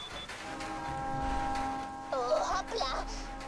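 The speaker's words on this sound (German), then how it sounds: "Ich höre den Zug, er kommt!" In the video game Borderlands 2, an approaching train sounds a tonal horn and rumbles under steady game ambience, with chiming effects, and a player talks over it.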